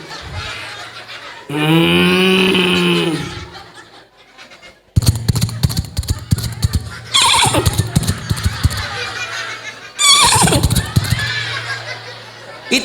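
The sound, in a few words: man imitating a horse neighing with his voice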